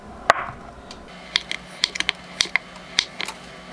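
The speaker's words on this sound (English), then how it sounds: "what we want to do next is give it some thin slices" A knife cuts food into thin slices on a cutting board, giving a close series of crisp, sharp taps at an uneven pace with short pauses between strokes.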